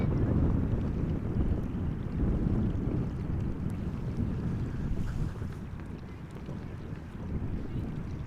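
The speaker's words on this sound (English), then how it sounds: "If you wonder what you are hearing, that's someone on an electrical bicycle with thick tires that makes a lot of noise." An electric bicycle with thick tires passes near an airport, its loud rumbling tire roar strongest at first, then easing slightly, mixed with wind buffeting the microphone.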